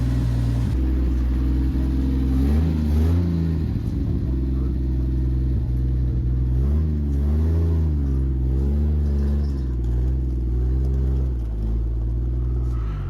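A 1940 Mercedes 320 barn-find car drives along, its engine rumbling loudly and steadily close by, with the pitch climbing and falling through several revs as it accelerates and shifts.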